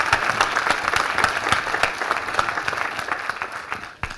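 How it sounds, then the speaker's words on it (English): An audience at a healthcare innovation event claps together, a dense and steady burst of applause that fills the room and tails off quickly at the end. "Another round of applause,"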